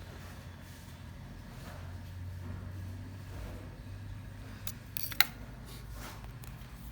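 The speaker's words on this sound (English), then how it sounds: "So we need to gently cut the edges. So let's see, I will cut the edge." Scissors snip at the tip of an Asian Paints ezyCR8 Tile Seal tube, a white 200 ml sealant tube, with one short, sharp cut standing out near the end over faint room hum.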